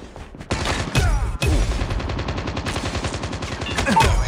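Gunfire rings out in the mobile video game Call of Duty Mobile: sharp shots, then a rapid, sustained burst of automatic fire, loud and close.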